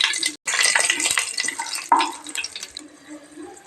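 Liquid poured into a pressure cooker while making pudina biryani gives a steady, close splashing rush that thins out toward the end, with no talking over it.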